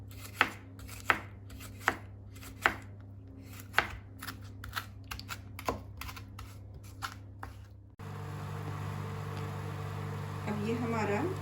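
Paprika finely chopped with a knife on a board, a run of sharp close chops at first spaced then quicker, ending as a steady hum rises and a voice speaks under it.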